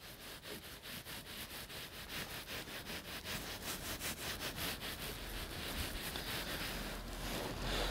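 A clay bar rubs over lubricated car paint along a rocker panel, making a close, faint, steady rhythmic scrubbing with soft repeated strokes.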